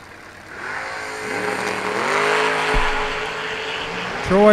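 Drag race cars launch hard down the strip at a million-dollar event, engines rising in pitch with a loud roar and a brief tire bark, a second burst of revving near the end over background crowd noise.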